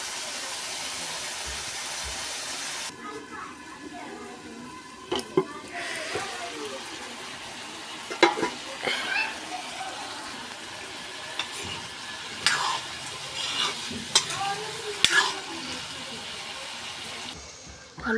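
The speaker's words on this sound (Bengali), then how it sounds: "এখানে পেঁয়াজ ভাজি হইতাছে, আলুটা দিলাম।" Local farm-grown potatoes and onions frying with turmeric, chili and salt in a pan, with intermittent scraping stirs over a steady soft sizzle and a voice speaking now and then.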